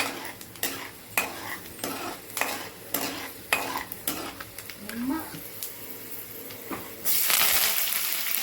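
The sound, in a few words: roasting vermicelli in a pan for shavige uppittu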